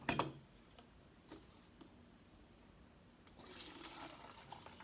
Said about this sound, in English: Let me just pour the water in this one.